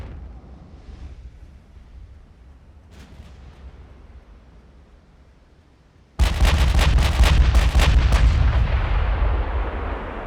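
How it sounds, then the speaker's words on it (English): Naval artillery from 18-inch guns in the video game Ultimate Admiral: Dreadnoughts: after a quiet low rumble, a massive sudden salvo booms out and rolls on as a loud, sustained roar of heavy gunfire. "They're using 18-inch guns this time?"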